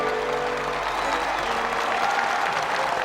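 A crowd at the 1993 World's Strongest Man trophy presentation in Orange, France applauds loudly and continuously. The dense clapping fills the whole moment.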